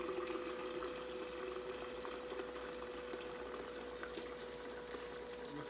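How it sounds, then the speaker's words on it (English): Water running steadily into a container while mixing Crystal Light iced tea, a continuous hissing pour with a faint hum at one pitch and no talk. "let's fill it up the rest of the way with water."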